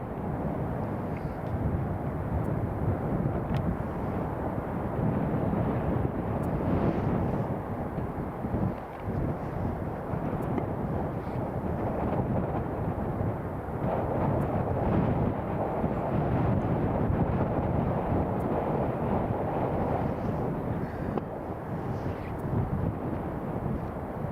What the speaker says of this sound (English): We've got the United taxiing, and the American Airlines is just about to go as well